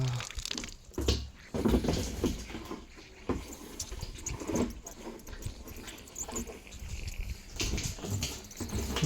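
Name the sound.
water pouring down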